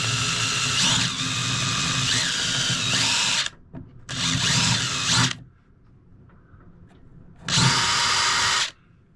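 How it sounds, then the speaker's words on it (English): A small power drill bores down onto a screw in a bathroom vanity, whining in three separate bursts of a few seconds each with quiet gaps between them. "So put a small tiny drill in the middle, drill it down on the screw that's underneath,"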